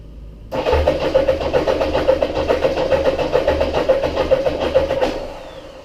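A 1989 Yamaha XJ900F motorcycle engine cranks on the starter for about four and a half seconds, a loud, close, rhythmic churning pulse that fails to catch and then stops abruptly.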